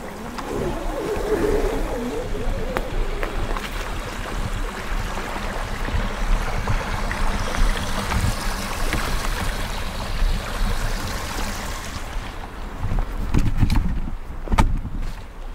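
Water churned and aerated by a pump running into a garden pond, a steady broadband rushing and bubbling that holds even and continuous throughout, with a few brief knocks near the end.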